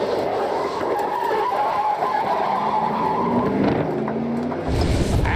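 A NASCAR Pinty's Series stock car spins out at Flamboro, with loud sustained tire squeal and skidding over a roaring engine, the squeal rising and shifting pitch as the car slides, close and continuous.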